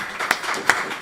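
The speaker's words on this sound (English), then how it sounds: "One more round of applause for the wonderful Eli Yamin for putting all this together." Brief scattered clapping from a jazz concert audience, a couple of sharper claps standing out over a thin wash of room noise, no voices.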